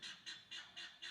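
A single bird calls outside at dusk, repeating a loud honking cry five times in a steady rhythm, with quiet between the calls and no talk.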